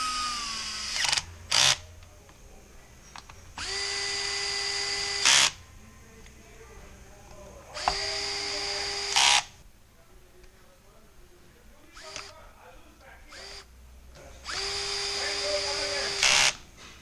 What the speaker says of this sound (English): Right angle bit driver with a clutch.